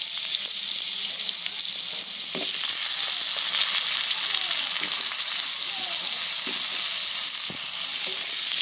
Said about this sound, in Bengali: আলুটা ভেজে নেব খানিকক্ষণ।